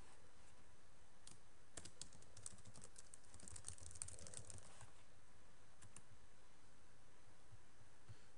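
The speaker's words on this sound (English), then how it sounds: "so just type in your link." Quick clicks on a computer keyboard as a web link is typed, a short burst of keystrokes in the middle over a faint hiss, near and quiet, with no talking.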